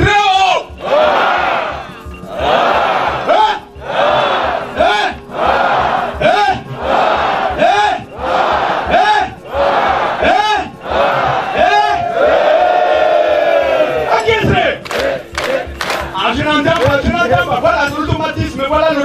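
An Easter service congregation shouts and acclaims in loud, rhythmic bursts, many voices roaring together in repeated waves, close and filling the room, ending in scattered cries and claps.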